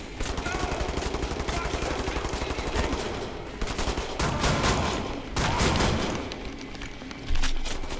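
Rapid gunfire from the shooter game The New Order, with dense automatic bursts and heavy shotgun blasts rattling close and loud in near-continuous volleys.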